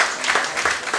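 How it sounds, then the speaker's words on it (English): A comedy-show audience claps in applause, a brief, dense burst of hand claps that stays loud throughout with no talk. "Please, a round of applause for Safo Kantanka."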